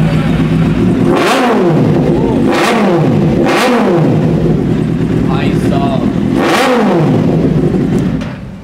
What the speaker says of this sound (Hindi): इसमें एसेसरीज में ये एग्जॉस्ट भी लगा हुआ है, एग्जॉस्ट नोट आपको सुना देगा।